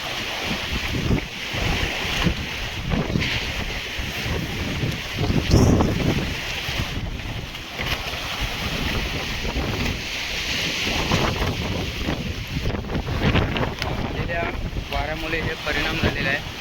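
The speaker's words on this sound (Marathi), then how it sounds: "हे समुद्र एकदम खवळलेला आहे मित्रांनो" Strong gusting wind buffets the microphone over rough, churning surf on a Konkan village shore during a sudden storm, with boats nearby; the roar stays loud and continuous throughout, with faint voices under the din.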